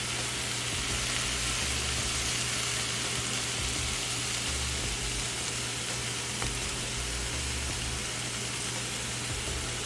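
Tomatoes sizzle in a frying pan, a steady, soft, hissing crackle that runs unbroken for ten seconds with no voices.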